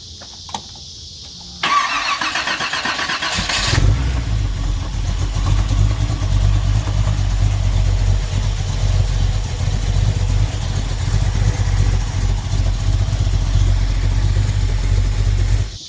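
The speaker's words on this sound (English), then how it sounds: "give her a crank, and see what happens." A 1984 Chevrolet El Camino engine cranks briefly, catches and settles into a loud, steady, rumbling idle heard up close.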